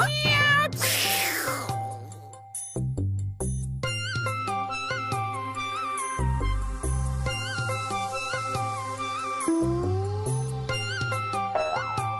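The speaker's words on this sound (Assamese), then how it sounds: "মেকুৰীটো ক'ৰ পৰা আহে পাকঘৰত চাগে গোটেই লণ্ড ভণ্ড কৰিলে" A cat meows repeatedly indoors, with clear, close, drawn-out cries rising and falling in pitch, one after another over a few seconds.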